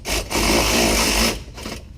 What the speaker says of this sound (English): So I'm gonna take my 3/8 ratchet, start tightening it.